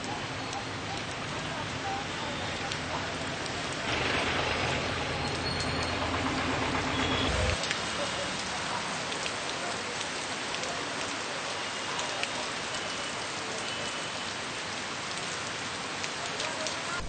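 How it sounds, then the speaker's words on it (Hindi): Heavy, continuous daytime rain in a city street, a dense and steady patter of drops on surfaces throughout, with scattered faint background sounds and no clear voices. "शुक्रवार को दिन भर हुई लगातार बारिश से शहरी जनजीवन पूरी तरह से पटरी से उतर गया।"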